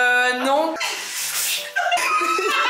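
A festival shower with several water jets sends out a loud rush of spraying water in the middle of the moment, between bursts of talking and laughter.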